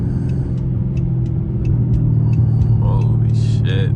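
A 478hp all-wheel-drive Dodge Charger R/T is driven at night, its engine a loud, steady low rumble heard from inside the cabin, with a few brief higher chirps near the end.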